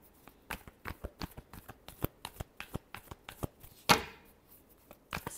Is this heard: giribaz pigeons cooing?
no